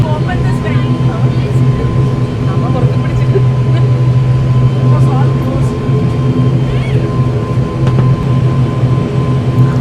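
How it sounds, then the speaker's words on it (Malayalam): A small passenger plane on a Kochi to Salem flight begins to taxi toward the runway, its engines making a loud, steady drone inside the cabin, with talk heard over it. "നമ്മുടെ ഫ്ലൈറ്റ് പയ്യെ മൂവ് ആയി തുടങ്ങിയിട്ടുണ്ട്."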